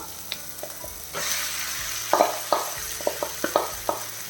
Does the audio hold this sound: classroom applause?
no